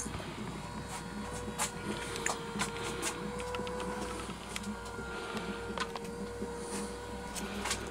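A Stuart Major model beam engine with a 3D-printed crankcase shell, loosely assembled, runs with a steady mechanical whirr and a scattering of light rattles and ticks, close and continuous throughout.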